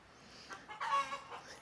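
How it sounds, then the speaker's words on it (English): Chickens clucking softly in a short burst, a few faint, close clucks and calls rising over a quiet background. "Chickens."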